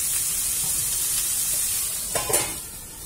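Quesadilla filling sizzles steadily in a pan, a constant close frying hiss that barely changes, with a brief clatter near the end.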